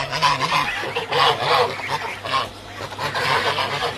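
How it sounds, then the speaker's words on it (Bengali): Big geese honk repeatedly in a garden with palm trees, loud harsh calls overlapping in a dense, continuous racket close by, with a low hum underneath. "কি বড় বড় রাজহাঁস দেখুন।"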